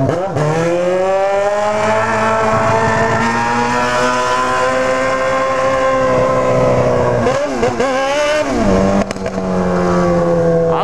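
A Yamaha XJ6 motorcycle with a 4-into-1 exhaust revs loud and close while still cold, its engine note rising and falling through several throttle blips, with a brief stumble near the end.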